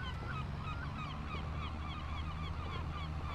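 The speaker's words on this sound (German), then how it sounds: "Möwengeschrei" Seagulls cry at the Baltic Sea coast in Farming Simulator 22, many repeated calls at moderate distance over a steady low rumble of wind and surf.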